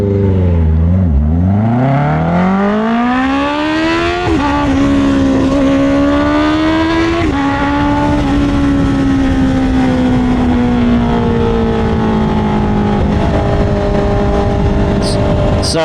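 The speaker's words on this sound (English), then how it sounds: "This is the part where I actually get to do a little bit of some speeding and stuff like that." A sportbike motorcycle accelerates hard on a road commute, its engine pitch climbing steeply through the gears and then holding a loud, steady high-speed drone with wind rush throughout.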